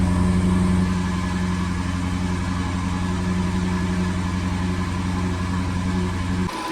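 A car bought at auction, needing timing and fuel pump repairs, idles steadily with a loud, even hum that holds for several seconds before cutting off abruptly near the end.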